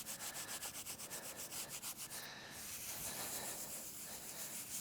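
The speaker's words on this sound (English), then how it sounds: "I'm going to buff it one more time" Antiqued, floral-tooled leather being buffed by hand, a fast rhythmic rubbing swish in quick strokes that shifts into a smoother continuous rub, faint and close, with no talking.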